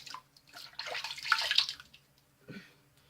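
Tap water runs and splashes as a vintage 1952 English Gillette ball end Tech safety razor is rinsed at a sink, a soft burst of flowing water with a brief splash near the end.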